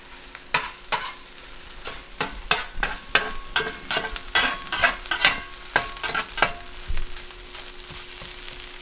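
A metal spatula scrapes and scrambles sizzling breakfast food around a hot frying pan, giving a series of sharp, irregular clinks and scrapes over a steady soft sizzle, close by and with no talking.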